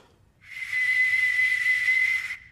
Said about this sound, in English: although it's so old and it's made of bronze, it'll probably still whistle quite well